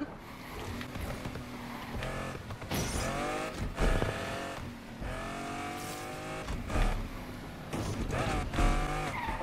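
Car engine in the racing game Need for Speed Unbound, a steady droning and revving that rises and falls through gear changes, with brief tire screeches, loud and continuous for the whole stretch.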